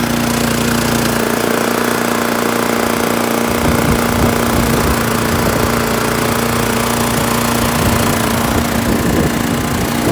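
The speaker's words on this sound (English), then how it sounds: "it's coming out the exhaust of the snowblower." A snowblower engine runs at a steady, loud, close idle with its exhaust piped through a hose into a mole tunnel, a constant mechanical drone and rattle with a slight roughening partway through, and no talking.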